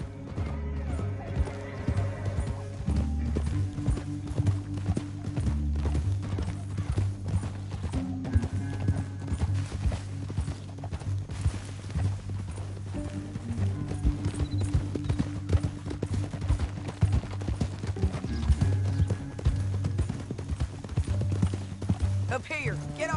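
Rapid clip-clop of galloping horse hooves in the video game Red Dead Redemption 2 runs throughout under a dense music score and other game effects.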